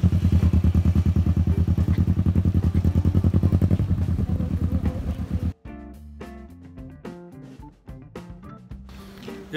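A motorcycle engine idles with a steady pulsing rumble, then cuts off abruptly, followed by scattered clattering and thumps nearby.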